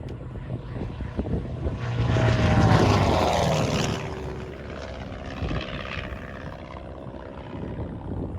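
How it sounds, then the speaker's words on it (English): Propeller engine of a Velocity canard kit aircraft at a fly-in, a steady droning hum that swells louder as it passes by and then fades back to a steady distant rumble, with no talking. "Next is this very sleek Velocity. While it is not from Rutan and it can come in a kit, they are still excellent Canard aircraft"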